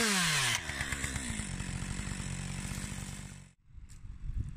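A chainsaw cuts back dense gorse on a protected site, its engine snarling at high revs and then settling into a steady buzzing drone as it works through the growth, before briefly dropping away and picking up again.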